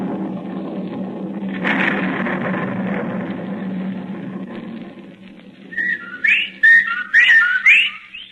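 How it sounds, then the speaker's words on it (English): Whippoorwill calls as a sound effect in a suspense radio drama, a cluster of sharp rising whistled notes that breaks out after a low droning bed fades, repeated several times close and clear. "The whippoorwills"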